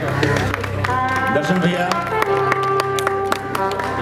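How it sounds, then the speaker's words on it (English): Applause from a crowd at a school alumni association's foundation day gathering in Pune, steady clapping for an honoured alumnus running throughout, with a voice speaking over it. "with round of applause, Mr. Darshan Singh from 76 batch"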